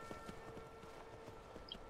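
Hooves of Shadowmere, a warhorse in Skyrim, clip-clop in a steady walking rhythm, each hoof strike distinct and fairly near, sitting low in the mix over a constant ambient background with no speech.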